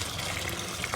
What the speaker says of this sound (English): Then we pour all our dirty buckets of water into that 5-gallon pail with that strainer.